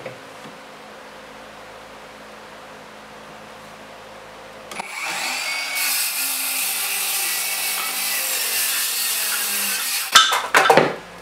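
Wood boards being cut for a platform bed: after a few quiet seconds, a power saw roars in steadily through the cut for about five seconds, then ends in a brief clatter of wood and tool handling.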